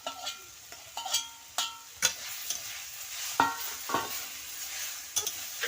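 Susni greens stir-fry in a pan, with a soft sizzle under repeated scraping and tapping strokes of a spatula, fairly quiet and close.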